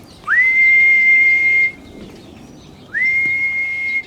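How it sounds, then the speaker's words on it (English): Two sustained, steady high whistle blasts call a trained animal, loud and close, separated by a short pause. "he doesn't really understand the whistle because I haven't done enough repetitions"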